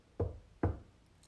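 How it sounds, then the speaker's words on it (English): Two firm knocks strike an altar, close and distinct, spaced about half a second apart in otherwise quiet surroundings. "Ring a bell or knock 3 times on the altar"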